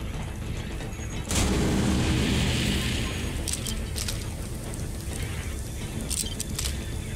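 A sudden loud boom bursts in after about a second during Borderlands 3 gameplay, followed by a rumbling, crackling tail and scattered sharp game effects.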